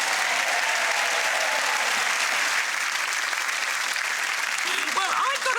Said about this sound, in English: please give a big round of applause for Brooke